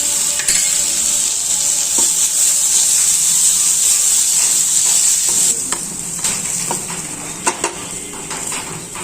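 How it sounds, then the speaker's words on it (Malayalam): Sliced onions with crushed ginger and garlic being stirred in a hot pan, loud continuous sizzling with repeated scraping strokes of a spoon, the frying settling a little quieter toward the end. "ഇനി ഇത് നന്നായിട്ട് ഇളക്കി കൊടുക്കാം ഇതിലേക്ക് നമ്മൾ ചതച്ച് വെച്ചിരിക്കുന്ന ഇഞ്ചിയും വെളുത്തുള്ളിയും കൂടെ ചേർത്ത് കൊടുക്കാം"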